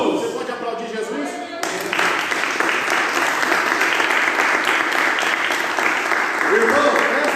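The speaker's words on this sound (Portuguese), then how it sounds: "Você pode aplaudir Jesus?" Church congregation breaking into loud, sustained applause that fills the room, dense steady clapping continuing for several seconds with voices mixed in throughout.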